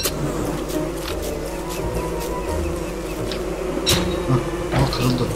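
Bees buzzing in the Don't Starve video game: a continuous droning insect hum with a few sharper clicks and game sounds layered over it, and no speech during the clip.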